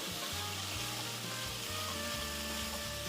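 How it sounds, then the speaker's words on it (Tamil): White sorghum upma is stirred in a pan, giving a continuous soft sizzle and scraping with a low steady hum underneath. "நல்லா கிளறி விட்டுடலாம் சோளா உப்புமா ரெடி ஆயிடுச்சு"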